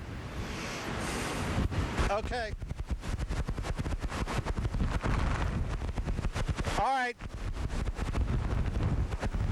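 Strong, steady hurricane wind gusts of about 50 miles per hour roar and buffet the microphone on the coast as Hurricane Dennis comes through. Someone speaks briefly over the constant rushing noise.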